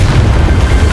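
Confringo blasting spell from a Harry Potter video game bursting in a loud, deep, rumbling explosion that fills the moment with heavy low-end boom.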